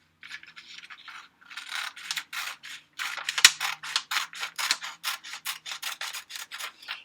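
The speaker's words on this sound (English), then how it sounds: "I'm going to carefully cut straight across" Scissors cut paper along a dotted line, a series of short crisp snips and rustling scrapes in quick uneven rhythm, close and fairly quiet, with no talking.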